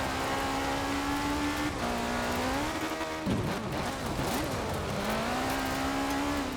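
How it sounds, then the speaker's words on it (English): A racing car in the driving game K74 Rivals drones at a steady high engine pitch that dips and climbs through gear changes, with a rough, scraping burst of tyre skidding as it slides midway. "This car's sliding a lot"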